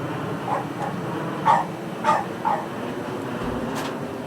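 A dog barks at a distance, a few short, muffled yips spread across a few seconds over a steady background hum.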